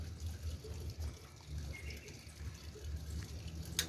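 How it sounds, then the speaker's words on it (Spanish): Water runs and trickles continuously at a moderate distance at La Mansión del Cupatitzio, a soft steady flow with a few faint drips. "Por todos lados se escuchan el relajante sonido del agua."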